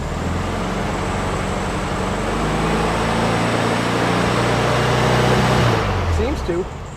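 A 1972 VW Super Beetle engine revs up toward high RPM, a loud, close, rising mechanical drone with a gritty air-cooled clatter that holds steady and then drops off near the end.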